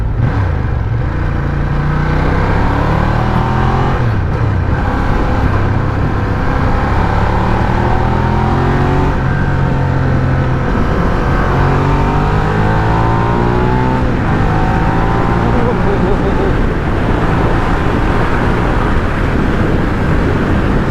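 A Ducati Diavel Dark Edition motorcycle engine revs hard while being ridden, a loud, continuous throaty roar with rising and falling pitch sweeps as it accelerates through the gears, heard up close with wind rush.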